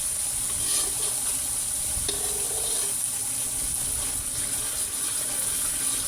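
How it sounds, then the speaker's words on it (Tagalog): Thick, sticky biko rice cake is stirred steadily in a pan, a continuous close scraping and squelching with a faint sizzle underneath and no talking. "Kailangan po talagang halu-haluin para hindi dumikit."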